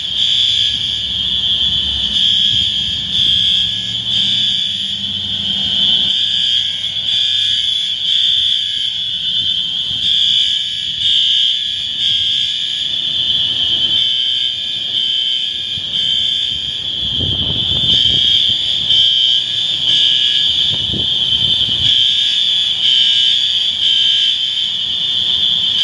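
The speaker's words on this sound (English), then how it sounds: "And then the alarms are going off." Alarms blare nonstop during a power outage on a beach after Hurricane Milton, a loud, steady high-pitched electronic tone sounding over the low rush of storm wind and rain.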